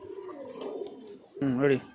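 Racing pigeons coo at a breeder's farm, with a soft murmuring coo early on and then a louder, fuller throaty coo near the end, close by.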